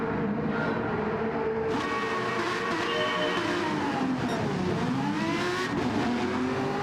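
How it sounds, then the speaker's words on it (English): Aston Martin race car engine in a racing video game on the Suzuka circuit, a high revving whine rising and falling through gear shifts amid other cars, steady and moderately quiet. "Sound beautiful, doesn't it, that Aston Martin?"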